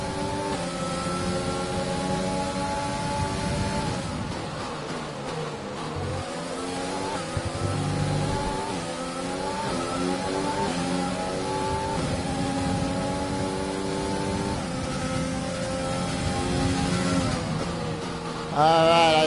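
Formula 1 car engine from the racing game F1 2020 at the Australian Grand Prix, screaming steadily through rising and falling gear sweeps, loud and continuous with repeated upshifts and a brief drop near the middle.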